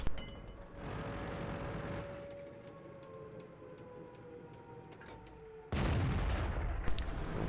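A tank gun fires in a tank battle video game on the Sand River map. A sharp report opens the clip over engine drone and a faint whine, and a second loud, close boom follows later.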